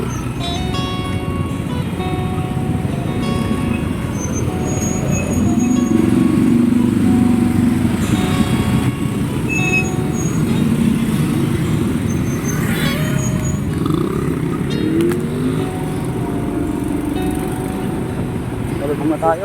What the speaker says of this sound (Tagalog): Pilipinas, capital of traffic.